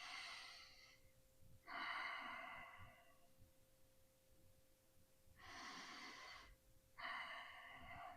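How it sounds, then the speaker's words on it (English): Slow, deliberate breaths demonstrated for calming a child, with four long airy exhalations in two pairs separated by quiet pauses, close and soft with no talking. "Sometimes what I will do is just begin to breathe like this."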